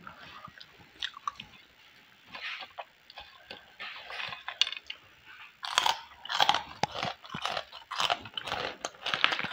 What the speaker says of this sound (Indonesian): enak teman-teman pedas kriuk-kriuknya rasa emang bener-bener enak kerupuk ini